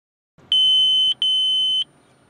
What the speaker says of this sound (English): issuing an audiovisual warning of an imminent collision with a pedestrian or cyclist